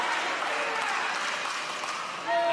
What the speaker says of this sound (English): The crowd goes nuts for the effort.